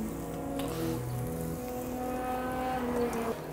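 Pieces of day-old bread fry in a pan with a steady, close hiss and crackle, with soft tonal background music playing throughout.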